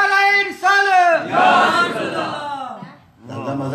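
A large crowd at a Mawlid religious gathering shouts a chanted reply to a religious slogan, a single raised voice leading into a broad, loud mass of overlapping voices that fades out and picks up again.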